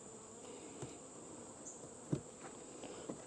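Honeybees buzzing around a farm hive, a steady faint hum with a few louder passes as individual bees fly close, no voices.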